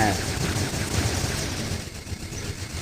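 Machine gun fire from a mech in War Robots, a dense, loud, continuous rattling burst that starts strong and tapers slightly over a few seconds.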